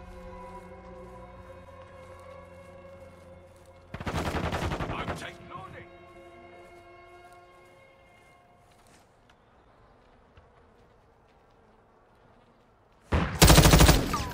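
Gunfire in Modern Warfare 2: two loud bursts of shots, one about a second long early on and another near the end, separated by quieter stretches of tonal game ambience.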